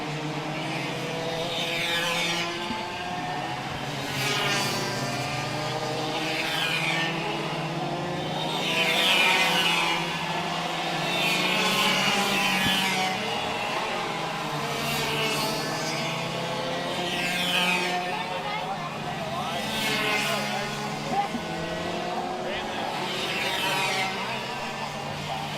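Micro and mini race cars scream past on the Whiteland Raceway Park track in repeated rising-and-falling passes, high whining engines coming close then fading, with an announcer talking over the racing throughout.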